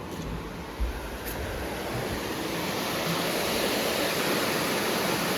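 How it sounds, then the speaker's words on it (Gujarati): Water rushes steadily through an open canal gate, a loud, continuous broadband roar close by with no talk over it. "પાણી ચાલુ છે અંદર."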